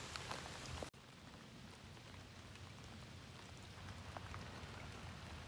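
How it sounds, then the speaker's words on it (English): Steady rain patters down outdoors during a wood duck hunt, a dense, even hiss that runs unbroken and fairly close throughout, with no voices. "This rain's coming"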